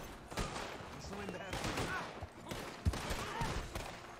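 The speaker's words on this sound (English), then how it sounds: "I'm gonna just shoot my way out." Gunfire in the Red Dead Online video game: a dense, close run of repeated shots with sharp cracks and rolling echoes, mixed with other game sounds.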